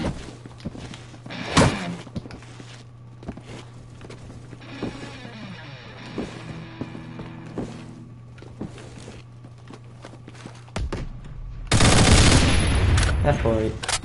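Gunfire in the video game Phantom Forces sounds as scattered single shots and short bursts, then a loud, dense fusillade near the end, over steady low game hum.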